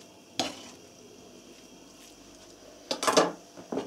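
A spoon stirs stuffed-egg filling in a bowl, giving two short bursts of scraping and clinking separated by near silence.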